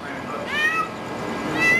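A cat stuck high atop a utility pole for days meows loudly and repeatedly, two drawn-out rising cries standing out over an open outdoor background with faint voices.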